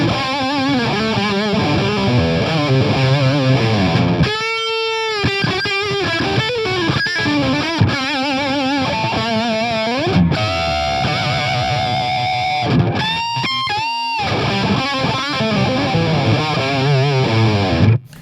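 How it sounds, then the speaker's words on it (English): An electric guitar played through an overdrive pedal rings out with thick, sustained driven chords and bending lead notes, loud and continuous, with brief pauses and no talking. "That's my overdrive pedal, pushing it to another level."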